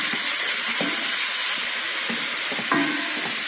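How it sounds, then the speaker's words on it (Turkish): Lamb meat frying in butter in a pan while being stirred, a steady loud sizzle and hiss with occasional scraping clinks of the spoon, no voices. "Etlerimi sürekli kavuruyorum böyle karıştırarak."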